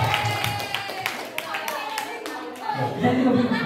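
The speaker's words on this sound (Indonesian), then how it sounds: "Luar ya, tepuk tangan dulu kita semua." A group of participants in a classroom-style teacher training session claps hands together in quick rhythmic bursts, with talking and voices mixed in around the clapping.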